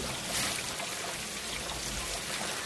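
Rain falling, a soft steady hiss of drops with a faint trickling quality, quiet and continuous with no voices.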